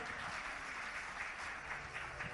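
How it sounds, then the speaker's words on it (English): Audience applause fills an awards ceremony, the Indian of the Year 2022 event, as a dense, steady wash of many hands clapping that holds at an even loudness throughout. "Ladies and gentlemen, big round of applause for Smriti Rani and also Mr. Allu Arjun."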